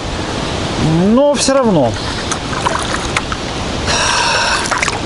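Small waves slapping against a kayak on a river, a continuous watery wash with splashes, while someone talks briefly over it near the start.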